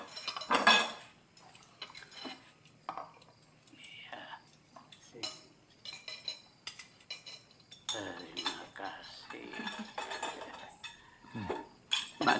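Spoons and cutlery clink against plates throughout a shared meal, irregular close taps and scrapes scattered over the whole span, with faint whispering in the background.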